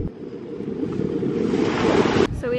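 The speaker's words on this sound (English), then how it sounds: "Wow, that is choppy water." Choppy ocean water along a Hawai'i shoreline washes and churns in a steady, loud roar of surf mixed with heavy wind buffeting the microphone, ending in a brief sharp clatter.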